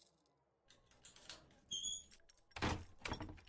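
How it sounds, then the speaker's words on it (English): Door opening in the horror video game Cyber Paranoia, a quiet mechanical sequence of squeaky, metallic sliding and clunking sounds with a brief high whine, building to two louder whooshing surges near the end. "You hear a door open."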